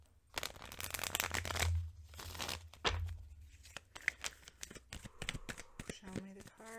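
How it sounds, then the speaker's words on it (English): Tarot cards are shuffled by hand in quick riffling bursts and soft crinkly rustles, close up and fairly quiet, with a voice speaking between the shuffles. "Shuffle these just a little bit more."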